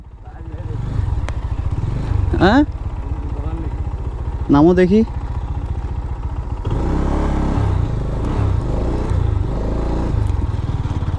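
A hot GPX Demon motorcycle idles after a rough ride on a broken, sunny road, its low engine putter running throughout under a man's brief spoken words, with a heavier burst of engine noise late on.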